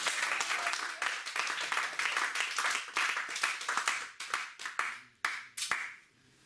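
Congregation in a church service clapping together in steady sustained applause, dense and reverberant, thinning out into a few scattered claps at the end, with faint voices underneath.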